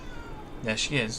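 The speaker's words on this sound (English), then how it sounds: "You can probably hear my cat meowing now as well." A pet cat meows twice in quick succession close by, clear and fairly loud, with a person speaking briefly just before the calls.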